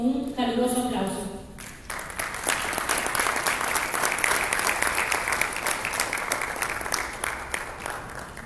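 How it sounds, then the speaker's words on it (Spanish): A warm round of applause from the audience at an electoral administration forum swells in after a brief bit of speech at the start, then continues as dense, even clapping from many hands for the rest. "recibimos con un caluroso aplauso"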